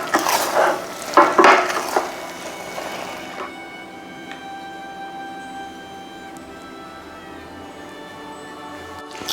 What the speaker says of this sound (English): So I'm just going to give this a bit of a stir.